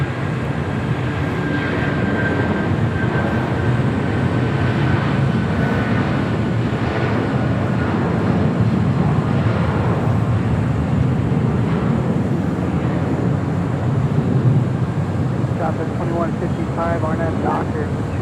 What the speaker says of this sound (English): United Airlines flight 2204, heading to Denver to 757-200